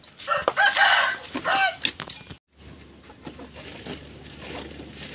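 A rooster crowing loudly nearby on a small farm, a long strained call in the first two seconds, followed by quieter clucking of chickens and faint rustling.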